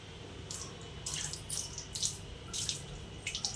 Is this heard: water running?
yes